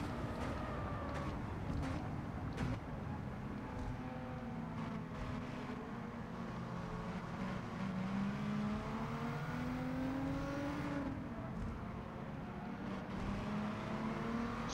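Honda NSX in Gran Turismo 7 accelerates hard in seventh gear along the Tokyo Expressway, its engine a steady, moderately quiet drone with gradual pitch swells and no talk.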